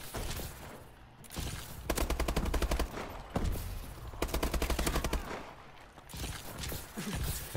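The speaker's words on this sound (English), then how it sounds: "Keep shooting his body every time." Rapid bursts of automatic gunfire from a video game body-shooting match, loud and close, arriving in several dense volleys separated by brief pauses.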